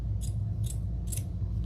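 Three crisp snips of scissors trimming ribbon for a wedding or funeral bow, evenly spaced about half a second apart, close and clear over a low steady room hum.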